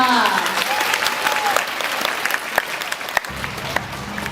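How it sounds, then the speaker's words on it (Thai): An audience at a Thai school applauds warmly, with dense, close clapping and a few sharper individual claps, under faint background voices. "อ่ะปรบมือให้กับมิรันดาของเราด้วยค่ะ"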